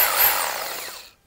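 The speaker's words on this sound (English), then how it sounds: "for the actual hole drilling, I'm gonna use this Dexter hammer drill." A Dexter 1100 watt hammer drill whirs briefly into a wall while a hole is started for a VESA wall mount, a loud high whine that winds down and cuts off within about a second.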